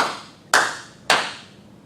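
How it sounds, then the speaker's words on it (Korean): Two sharp, loud hand claps about half a second apart during a church sermon, each ringing briefly in a reverberant room before fading. "제가 박수를 칠 때는 의미가 있습니다."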